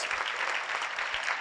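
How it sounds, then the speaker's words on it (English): Audience at a women's leadership forum gives a round of applause, steady dense clapping throughout without pause, fairly close and even in loudness. "Let's give Margaret a round of applause."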